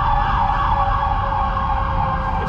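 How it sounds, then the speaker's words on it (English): Emergency sirens wail continuously in Bangkok, a steady loud tone over low traffic rumble, sustained without pause. "It's kind of eerie having all the sirens going off in a place here"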